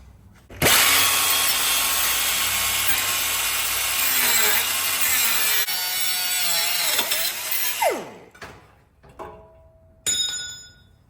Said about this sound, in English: First, I gotta chop this off, the hanger